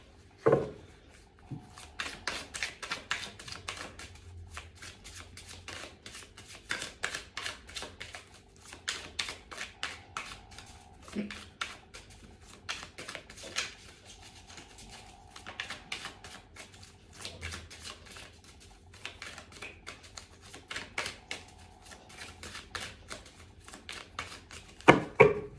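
Tarot cards are shuffled by hand in repeated soft riffling and rustling bursts with occasional taps, close and quiet, with no talking.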